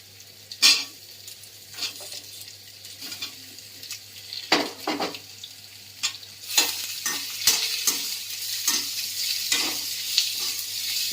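Guava pieces fry in a pan for chutney while being stirred. A steady close sizzle runs under repeated scraping and clacking strokes of a spoon against the pan, with no voices.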